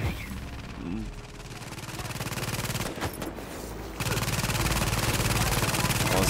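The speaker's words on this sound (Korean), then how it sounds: "내 머리 위에 총알 장난 아니야 지금" Dense, sustained automatic gunfire from Tom Clancy's The Division, with bullets streaming overhead in a rapid, continuous rattle that stays loud throughout and swells further near the end.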